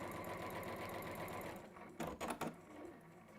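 A domestic sewing machine stitches fabric in a steady, rapid mechanical whir and then stops, followed by a few close handling clunks as the work is turned, all fairly quiet.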